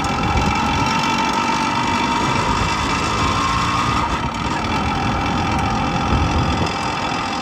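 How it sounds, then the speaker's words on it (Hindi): A 2000-model Yamaha motorcycle engine idles loudly and roughly up close, a steady sputtering drone with no voices. "2000 मॉडल यामे की आवाज चेक करो यार, पूरी फटपटी है।"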